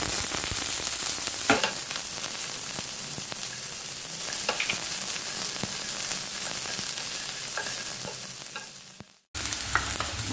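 Chopped onion fries in hot mustard oil in a pan with rendered duck fat, a constant close sizzle broken by scraping stirs, dropping out briefly near the end before resuming.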